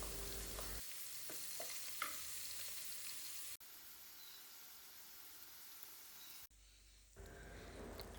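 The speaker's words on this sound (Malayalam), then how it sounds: "അങ്ങനെ ചെമ്മീൻ തല ഫ്രൈ ആക്കുന്ന പണിയൊക്കെ കഴിഞ്ഞിട്ടുണ്ട്" Prawn heads fry in a pan with a steady, close hiss of sizzling oil, broken by brief stirring scrapes and a couple of sudden drops in level.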